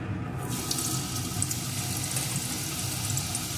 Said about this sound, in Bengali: গোটা জিরে ফোড়নগুলো একটু লাল লাল করে ভেজে নিয়ে এর ভিতরে দিয়ে দেবো আমি টুকরো করে কেটে রাখা আলুটা